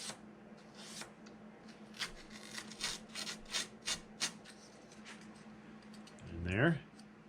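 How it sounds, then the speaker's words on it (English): A Scotch-Brite pad rubbing over aluminum rudder stiffeners to deburr their edges, a series of short scratchy strokes in an uneven rhythm, fairly close and quiet, ending with a brief louder scrape. "just doing a little more deburring with Scotch-Brite pad"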